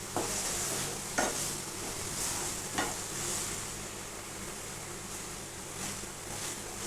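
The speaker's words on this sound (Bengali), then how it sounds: "এখন এটাকে আমি নাড়াচাড়া করে এটাকে নাড়াচাড়া করব।" Modak filling frying in a pan, a soft continuous sizzle with a few distinct scraping stirs of a spoon, quiet and close with no voices.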